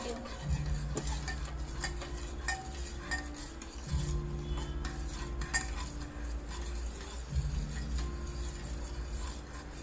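A cocoa powder, milk, water and sugar mixture being stirred, with soft repeated clinks and scrapes of a utensil against the vessel over a low steady background.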